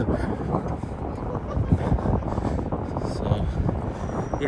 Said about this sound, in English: It's windy and cold tonight.